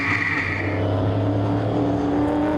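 Holden Monaro racing cars roar past on a track, a loud, sustained engine drone with shifting pitch as the cars pass near.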